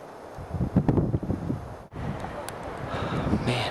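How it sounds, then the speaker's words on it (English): Wind blows across a mountain hiking trail among red rocks, buffeting the microphone with a steady rushing roar and gusty swells throughout, up close. "Wind's blowing."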